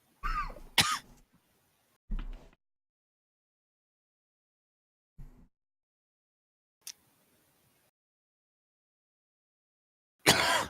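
Character in the Vampire the Masquerade video game coughing and clearing the throat in a few separate bursts, two clustered at the start, then isolated short coughs across long silent gaps, the last one loud and close.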